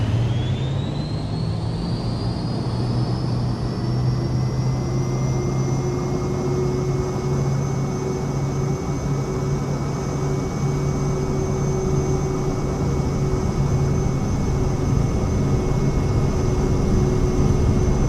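Boeing 737 MAX jet engines spooling up for takeoff in Microsoft Flight Simulator 2024, a loud steady roar with a rising whine that climbs and then holds at full thrust, heard continuously from inside the aircraft.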